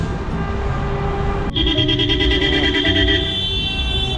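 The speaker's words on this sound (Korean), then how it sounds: "빵빵대는 사람들 다 그 베시탁스 축구 팬들입니다" Car horns blaring on an Istanbul street from Beşiktaş football fans, a sudden sustained honking chorus breaking in midway over steady traffic noise, fairly loud and close.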